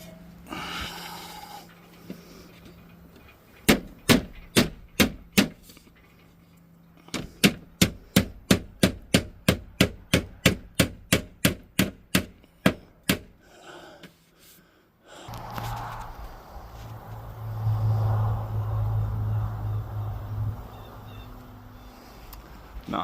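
Nails driven into the ribs of new-construction siding with a nail gun, a rapid run of about twenty sharp, loud, evenly spaced shots at close range, followed by a stretch of rumbling handling noise.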